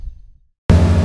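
Wind gusting across a GoPro fitted with an iGoMic external stereo microphone outdoors in sunny South Africa, cutting in suddenly as a loud, steady broadband rumble and roar after a near-silent moment.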